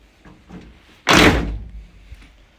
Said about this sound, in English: Open the door, and there we go.